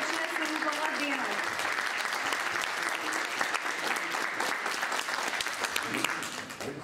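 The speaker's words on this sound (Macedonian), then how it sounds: "И ве молам за еден аплауз заедно со вашите родители" An audience at a children's festival opening in Skopje, with parents in the crowd, gives a steady, dense round of applause that fills the whole stretch at an even, loud level.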